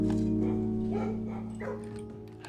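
Dogs barking in the kennels of the video game Blue Prince, a few scattered barks and yips over a steady low background hum, moderately loud with no talking.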